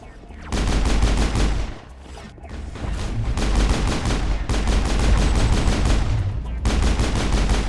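Rapid automatic gunfire rattles in the Mass Effect video game, loud sustained bursts separated by short pauses.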